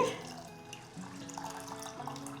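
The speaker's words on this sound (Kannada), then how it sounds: "ಈ ಹೆಸರು ಬೇಳೆನ ಎರಡು ಸಲ ಕ್ಲೀನಾಗಿ ತೊಳೆದು ಇವಾಗ ನೀರು ಹಾಕಿ" Water runs and splashes steadily into a container of split moong lentils, with faint dripping and light clinks, close by and without any talking.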